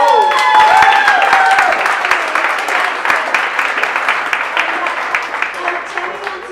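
Audience applause in a public speaking workshop: a dense, steady patter of many hands clapping at once, loud at the start and easing slightly over several seconds, with no speech over it.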